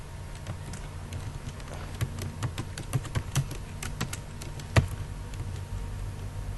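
Someone types on a computer keyboard while working in Microsoft Word, producing a run of close, uneven key clicks and taps with a sharper keystroke near the end, over a low steady hum.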